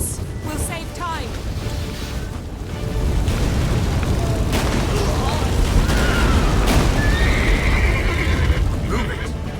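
A horse whinnies over a dense, rumbling soundscape in the video game The Witcher 3 (PS5), with a voice speaking briefly near the start.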